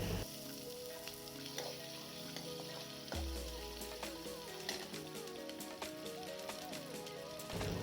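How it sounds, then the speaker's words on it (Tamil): Small shallots sautéing in a pan for a bitter gourd tamarind curry, a steady close sizzle with scattered crackles and stirring scrapes running throughout, with no talk. "சின்ன வெங்காயம் நல்லா வதக்கிக்கலாம்"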